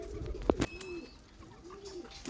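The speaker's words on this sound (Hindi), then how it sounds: "बहुत प्यारा कबूतर है भाई देखो" A male and female pigeon pair cooing up close, a couple of soft, throaty coos early on followed by quieter, rounded coo notes over light background noise.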